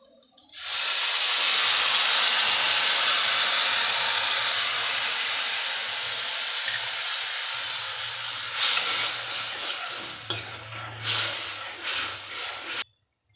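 Thick tamarind water poured into a hot pan for orange peel pachadi, giving a loud, steady hissing sizzle that gradually fades and flickers toward the end, with no voices.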